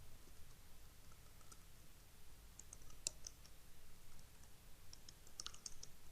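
Computer keyboard typing in a word processor, rapid light clicks in irregular bursts, faint and steady over a low background hum with no voices.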